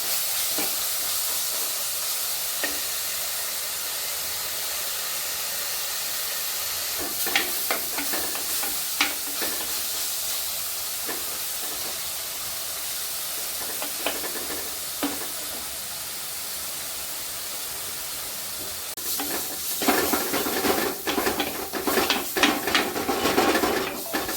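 Crushed fennel seeds fry in oil for a Kerala fish curry. A steady sizzle runs throughout, with scattered clinks of a utensil stirring in the pan and a louder flurry of scraping near the end.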